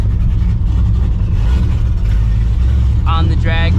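A 560-horsepower Procharged 2V Mustang GT revs hard on drag radials at night, its loud, steady low engine roar filling the whole stretch, with a brief higher whine rising near the end.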